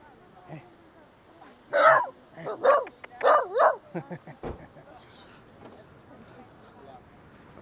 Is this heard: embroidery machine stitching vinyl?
no